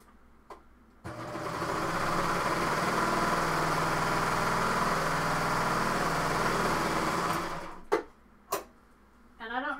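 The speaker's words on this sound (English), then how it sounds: "So the first thing I do before I put in the sleeves is I just serge the hem." A serger overlocks the hem of a sewing project, a steady, close, whirring mechanical run lasting about seven seconds before stopping, followed by a few short clicks and a brief voice.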